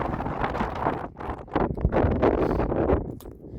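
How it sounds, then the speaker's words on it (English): Strong wind buffets the microphone on a 12,335-foot Colorado mountain summit, loud broadband roaring gusts rising and falling continuously with no talking. "it's extremely windy"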